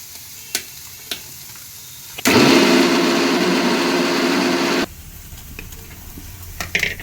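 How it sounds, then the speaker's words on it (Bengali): Loud, bright sizzling of paneer frying in hot oil starts abruptly, holds steady for a couple of seconds, then cuts off, leaving quiet clicks. "পনিরগুলো এবার ভেজে নিচ্ছে"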